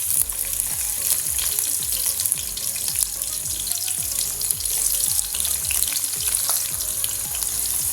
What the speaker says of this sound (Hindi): प्याज को कर लेते हैं हम अच्छे से फ्राई